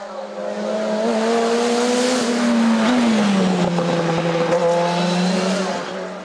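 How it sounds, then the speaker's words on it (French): JD 1400 Turbo production car racing up a hill climb at Saint Gouëno, a loud, close engine roar with a rising then dipping pitch as it passes, and no talk over it. "la belle JD 1400 Turbo de l'armoricain Jérôme Morenes en progrès constant sur les 4 montées"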